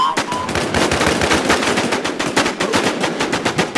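Rapid automatic gunfire in the Infestation survival shooter, a loud, continuous stream of close shots repeating steadily without pause.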